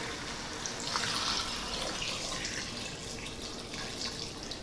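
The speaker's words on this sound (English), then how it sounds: "we're going to go ahead and add our beef broth to this, and we're just going to barely cover the meat" Beef broth is poured into a pressure cooker over a chuck roast, a soft, steady liquid pour and trickle, close but quiet, continuing for a few seconds.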